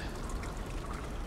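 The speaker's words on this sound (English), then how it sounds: "This water is still rising." Rising floodwater in the video game Limbo, a steady pouring, trickling wash of liquid that holds at an even, moderate level throughout with no voices over it.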